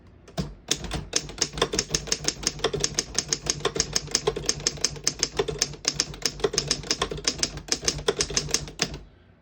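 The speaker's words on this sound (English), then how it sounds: "I'll type a sentence on the next line" Rapid, crisp mechanical keystrokes of a 1936 Underwood No.6 antique desktop typewriter clack in a steady stream for several seconds, close and clear, with no voices.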